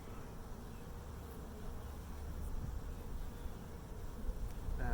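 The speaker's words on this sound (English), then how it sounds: "you've got some bees doing their job" Bees buzz steadily across a partly drawn-out hive frame with brood, a dense continuous hum that holds close and fairly even throughout, swelling slightly toward the end with no voices.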